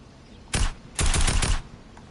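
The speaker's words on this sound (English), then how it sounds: "Is he shooting through the house?" Two loud bursts of gunfire in the battle royale game Fortnite, a short shot followed by a rapid volley of several cracks, close and prominent over a quiet background.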